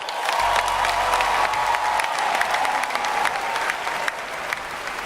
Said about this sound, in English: Can we hear one more round of applause for David?